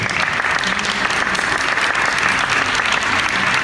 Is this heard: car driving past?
no